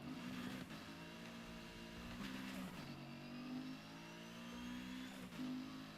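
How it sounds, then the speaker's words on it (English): A new car engine in the Need for Speed Heat video game revs repeatedly, rising and falling in pitch through several gear shifts with a whining, jet-like tone, loud and close. "I like the sound of this new engine a lot."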